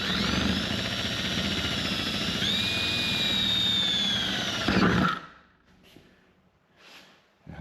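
A loud, sustained whine of a power drill boring straight through a foam-filled door to fit a cat door, its pitch shifting midway, then stopping abruptly into near quiet.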